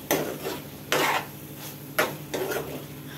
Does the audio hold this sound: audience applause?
no